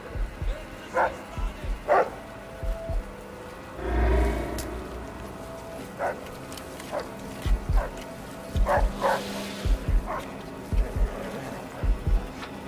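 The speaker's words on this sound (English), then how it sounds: "I could actually hear dogs." Dogs bark in short, repeated bursts at night close to a hidden person, with military trucks nearby. The barks come at irregular intervals, spaced across the stretch, with a low rumbling swell in the middle.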